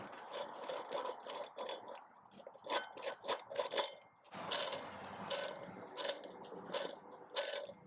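A worn, grimy wheel bearing dust seal turns roughly when spun by hand, producing irregular clicking, grinding and scraping bursts that are close, quiet and uneven.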